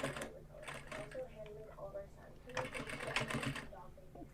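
Sewing machine stitching fabric, running in quick mechanical bursts with short pauses between them. It is quiet and close, with faint voices in the background.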